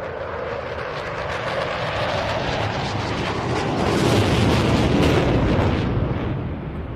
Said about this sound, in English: we're going to see some very effective use of that afterburner now